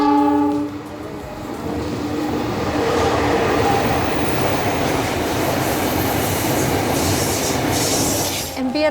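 A train rolls along a railway through a village in Malang, Indonesia, opening with a horn blast, then a sustained loud rumble of wheels and carriages with squeals, passing close by.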